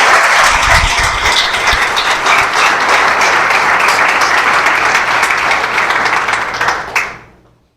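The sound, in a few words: congregation applause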